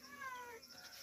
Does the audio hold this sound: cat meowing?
yes